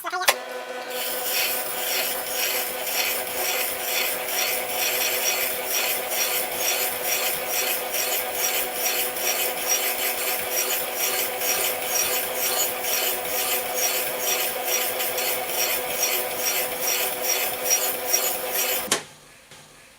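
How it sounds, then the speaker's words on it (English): A hand plane blade rubbed back and forth on a sharpening stone, producing a continuous close scraping rasp with rhythmic strokes for nearly twenty seconds before stopping abruptly. "that's all I'm going to do with this blade in terms of sharpening it with the stone"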